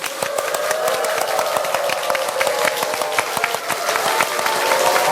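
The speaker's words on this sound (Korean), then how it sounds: "와, 정말 우렁찬 박수와 함께 시작을 했는데" Church congregation bursts into loud applause for its senior pastor, a dense, vigorous wash of clapping with crowd noise, swelling slightly toward the end.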